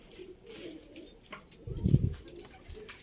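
A flock of pigeons on a rooftop in the early morning, with a soft, low coo rising near the end over faint background noise.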